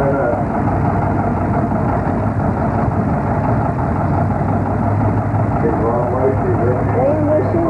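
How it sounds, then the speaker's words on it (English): A heavyweight tractor engine runs at a tractor pull with a two-plow, double-tree setup, a loud continuous low rumble and drone throughout, with people talking over it. "Two plow, double tree, heavyweight tractor."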